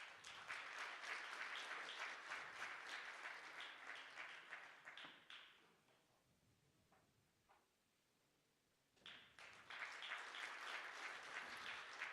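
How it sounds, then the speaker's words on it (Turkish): Audience applause at a Turkish presidential culture and arts awards ceremony, a dense steady clapping that fades to near silence mid-clip, then resumes just as loudly for several seconds at the end. "alkışlarınızla sahneye davet ediyoruz"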